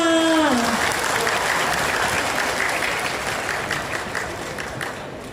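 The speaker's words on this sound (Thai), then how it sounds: "เชิญชวนทุกท่านปรบมืออีกครั้งหนึ่ งค่ะ" Audience applause at the opening ceremony of a durian festival in Sisaket, Thailand, a large steady ovation that swells at once and slowly fades, with a brief tone from the sound system at the start.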